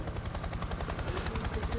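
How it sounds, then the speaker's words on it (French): A helicopter throbs overhead above a rally stage at the Rallye de France in Alsace, its rotor beat pulsing steadily and fairly faint at a distance throughout the short moment, with no voices. "Les hélicoptères ont pu décoller malgré ce plafond très bas."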